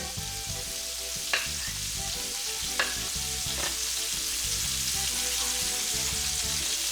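Red snapper fillets frying in a pan as pats of butter melt around them, a steady soft sizzle with a few utensil clicks, backed by continuous music.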